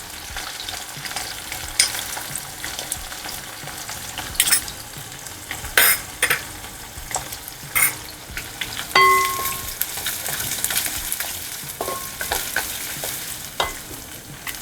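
Onion frying in a pan for an upma dish sizzles steadily up close, with repeated stirring scrapes and a few sharp clinks of a utensil against the metal.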